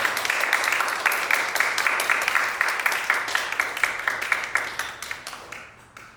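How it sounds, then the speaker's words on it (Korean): A church congregation claps to welcome a pastor to the pulpit, a fairly close, lively round of applause with distinct individual claps that gradually thins out and fades toward the end. "큰 박수로 환영해 주시면 감사하겠습니다."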